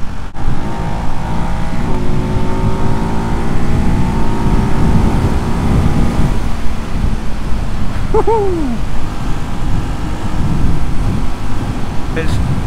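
A 2024 Ducati Hypermotard 698 Mono RVE single-cylinder motorcycle pulls hard under sustained acceleration, its engine note climbing steadily through the revs and then holding a loud, close drone, with a brief whine near the end.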